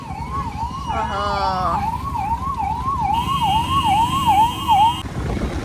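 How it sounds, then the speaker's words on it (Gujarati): A wailing ambulance siren sweeps up and down continuously, fairly close and loud, over steady traffic rumble on a road near Anand, Gujarat, with a second higher siren tone joining partway. "હેનું આવે એમ્બ્યુલન્સ આવી"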